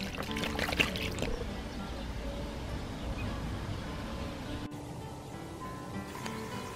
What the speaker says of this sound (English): So just cover all the bones and meat with water and bring to a gentle simmer.